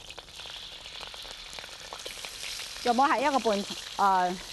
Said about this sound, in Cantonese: 爆香我哋少少嘅蒜蓉啦，仲有咧就爆香啲辣椒醬、辣嘅豆瓣醬